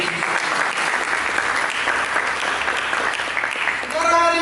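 Applause for Jesus fills a church service, a dense, steady wash of many hands clapping throughout, swelling slightly near the end as a held musical tone enters.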